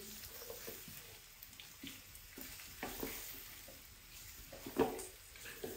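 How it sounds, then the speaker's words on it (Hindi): Chicken feet frying in a pan with garlic paste, a soft steady sizzle with intermittent scraping stirs and a sharper clatter near the end, fairly quiet and close, no talking. "और अभी मैं इसको अच्छे से भून लूंगा तकरीबन 5 से 7 मिनट के लिए।"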